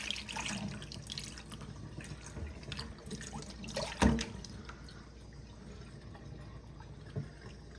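Water drains and splashes out of a pot after raw chicken is washed for Jamaican curry chicken, a steady pouring trickle with a louder splash in the middle, close by with no talk.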